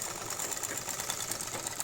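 A sewing machine stitches the lining piece of a blouse in one steady, fast, close run of whirring stitches, alone and unbroken for the whole stretch.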